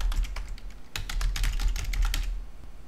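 Password being typed on a computer keyboard during an online seller account setup: a quick, steady run of close key clicks with no voices.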